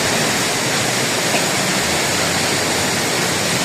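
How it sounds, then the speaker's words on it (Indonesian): A roughly 40-meter waterfall on a steep mountainside at Bukit Mongkrang, a loud, constant broadband roar of falling water filling the whole clip, steady and close with no voices. "Sementara itu air terjun lumayan tinggi."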